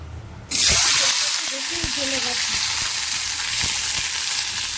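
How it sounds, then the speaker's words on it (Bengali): Fish frying in a pan without salt or turmeric bursts into a loud, crackling sizzle that then holds steady, while a person speaks quietly over it. "তা এই যে তার মাছ ভাজা হচ্ছে এখন এখানে।"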